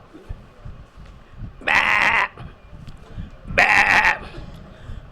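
Lamb bleating at a rural temple gathering, two loud bleats about two seconds apart, each lasting roughly half a second, over low background murmur and faint voices.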